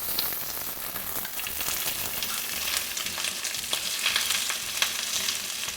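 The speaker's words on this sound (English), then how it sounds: "And it's gonna sizzle when you put them in." Chicken pieces go skin side down into hot oil and sizzle loudly and continuously, a dense crackling fry with scattered sharper pops throughout.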